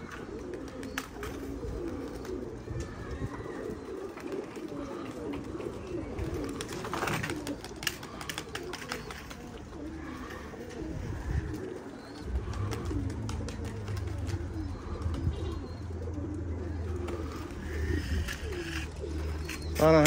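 Pigeons coo repeatedly from a rooftop loft in Basra, with soft, low, rounded calls recurring throughout at moderate distance over a steady outdoor background hum and no talking.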